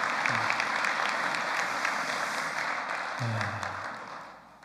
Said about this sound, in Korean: 여러분 환영의 박수 좀 보내시면 고맙겠습니다